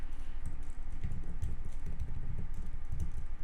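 Typing a product file name on a computer keyboard: quick, close, irregular key taps and clacks in short bursts, with no talking.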